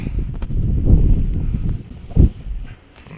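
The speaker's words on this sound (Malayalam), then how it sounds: "ഭയങ്കര കാറ്റ് ഇവിടെ കുടുങ്ങും കാറ്റ്" Strong gusts of wind buffet the microphone in a steady low roar that swells and fades, with brief rustling bursts, at Ottakathalamedu near Thekkady.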